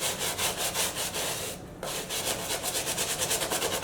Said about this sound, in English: Alright, so I'm really just scrubbing.